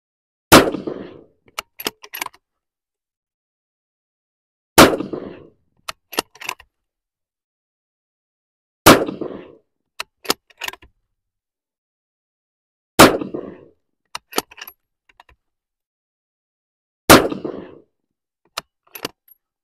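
Five rifle shots from an MRAD bolt-action in 6.5 Creedmoor firing 130 grain ELD-M bullets at a 100-yard range, evenly spaced sharp loud cracks about four seconds apart, each followed by brief metallic clicks of the bolt cycling.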